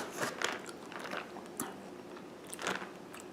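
Crunchy snack of almonds, cashews, sesame seeds, honey and Himalayan salt being chewed close up, with repeated bright crunching bites and softer mastication between them, no talk.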